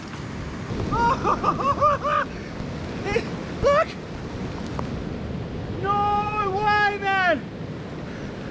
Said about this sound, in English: It's raining! No, dude! It's pissing down with rain!